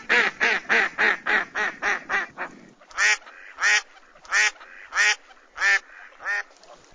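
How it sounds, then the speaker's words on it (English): A phone ringtone of loud duck quacks repeats close up: first a rapid run of evenly spaced quacks, then after a short pause a slower series of spaced quacks, with no talking. "I changed the sound for incoming phone calls to duck"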